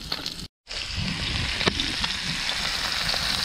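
Crayfish halves frying shell side down in garlic butter in a pan, giving a loud, steady close sizzle with occasional pops, briefly cut out near the start.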